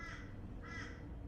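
Two harsh crow caws from a bird outdoors, evenly spaced about half a second apart, faint and somewhat distant against a quiet background.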